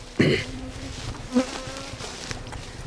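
Bees hum around an open hive as a queen is moved to start a new colony, giving a close, steady buzzing with one sharp louder burst near the start and softer passes afterwards.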